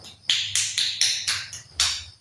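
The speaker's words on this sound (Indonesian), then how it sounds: "Tepuk tangan dulu." A classroom group clapping hands in a quick uneven rhythm, about six sharp claps in short bursts, close and fairly loud with no talking.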